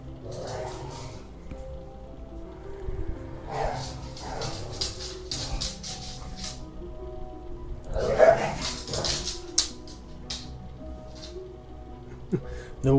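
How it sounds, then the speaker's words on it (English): An Australian cattle dog and pit bull terrier mix barks, yips and growls in scattered bursts indoors, close by, with a person talking at times between the outbursts. "The one making all the noise is an Australian cattle dog and a pit bull terrier mix. So she's just very vocal and growly most of the time."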